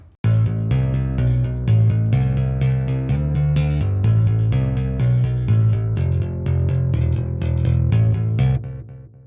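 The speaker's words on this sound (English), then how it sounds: "Split chorus and echo." A bass guitar played through split chorus and echo effects in a dual solid-state amp setup, a steady run of plucked notes with a shimmering, layered tone, loud and continuous with no talking.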